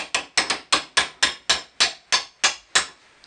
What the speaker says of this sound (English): just gonna tap it in slowly with the hammer